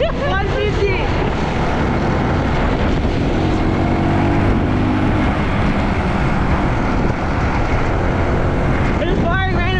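A small Honda CBR 150 motorcycle rides along with steady engine drone and heavy wind rush throughout, while people talk over it.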